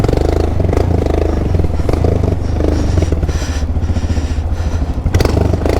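A Royal Enfield Himalayan with its exhaust silencer removed revs loudly and rawly up close, its harsh, throbbing engine note surging and dropping with throttle blips, plus a sharp burst near the end.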